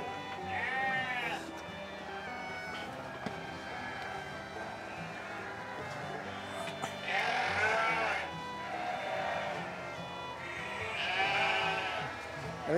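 Sheep bleat in pens at a Dorper and Awassi breeding farm where rams rest, with three or four distinct wavering calls spread out over a murmur of background barn noise and distant voices.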